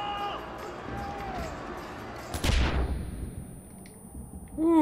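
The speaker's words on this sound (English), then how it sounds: "that explosion" A single loud explosion in the Far Cry 4 arena, a sharp boom about midway followed by a decaying rumble, with game noise and faint talk around it.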